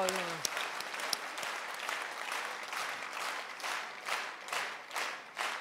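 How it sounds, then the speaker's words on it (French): A crowd claps at a public political meeting in Amilly, steady applause swelling and pulsing in waves, with a brief voice at the very start before the clapping takes over. "faut applaudir."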